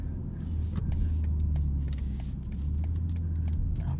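Inline-six engine of a 2022 BMW M440i xDrive Gran Coupe, heard from the cabin as a low, steady rumble with faint clicks and rattles over it.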